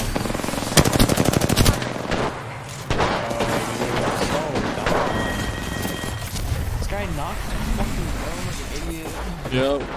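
Automatic gunfire in an Apex Legends match, rapid bursts of shots up front under someone talking over game music and effects, with busy combat noise continuing throughout.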